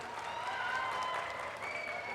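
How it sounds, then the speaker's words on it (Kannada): A public meeting audience applauds in a dense, sustained wash of clapping from many hands, heard at a moderate distance and steady for a couple of seconds. "ನೀವೆಲ್ಲ ಚಪ್ಪಾಳೆ ತಟ್ಟೋದು ನೋಡಿದ್ರೆ"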